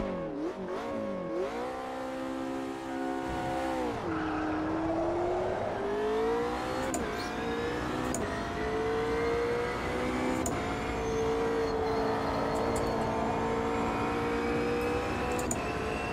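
McLaren race car engine in the sim racing game Automobilista 2, a steady high-pitched roar that rises and falls through the rev range with gear changes, loud and continuous with no talking.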